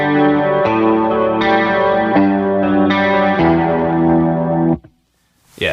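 A guitar through a heavier chorus pedal setting plays a sequence of chords, thick and warbling with a distorted edge, each chord ringing on before the next, then cutting to silence at the end.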